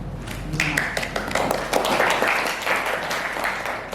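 Students in a university microteaching classroom break into applause, a dense patter of clapping lasting a few seconds over a steady room hum.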